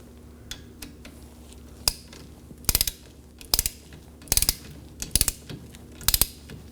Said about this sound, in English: Now we're going to torque our 11mm banjo bolt to 30 foot-pounds.